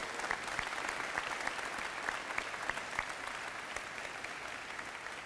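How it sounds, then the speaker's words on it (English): Crowd applause for the children at a school girls' program grand opening in Louisville's West End, steady, dense clapping at moderate distance, sustained for several seconds without talk. "Let's give them a big round of applause"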